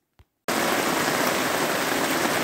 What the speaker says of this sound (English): 10 minutes later, it's raining hard